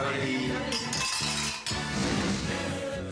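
Glasses clink together in a celebratory toast, bright chiming taps that ring out over a busy room for a few seconds.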